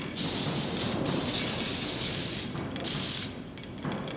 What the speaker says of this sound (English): What you want to do just to set it is use a little bit of hairspray.